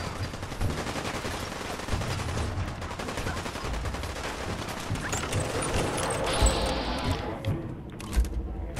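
Gunfire in Fallout 4 on Xbox One X: a dense, continuous rattle of shots and thuds with a few sharper bangs near the end, loud and sustained throughout.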